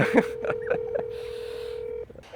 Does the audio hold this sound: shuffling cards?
no